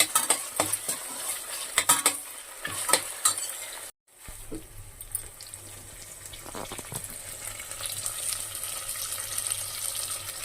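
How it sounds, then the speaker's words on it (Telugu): Ginger garlic paste frying in a pan for spinach rice gives a steady hiss with spoon scrapes and light metal clinks. The sound cuts out briefly partway through, then the sizzle returns. "కొంచెం అల్లం వెల్లుల్లి పేస్ట్ వేసుకోవాలండి. వేసుకుని బాగా ఫ్రై చేసుకోవాలి."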